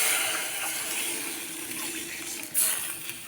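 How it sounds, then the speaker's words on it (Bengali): Water poured into a cooking pot of Bengali fish curry with tomatoes, a steady, soft rushing splash heard alone that swells briefly near the end. "এখন জলটা দিয়ে দিব।"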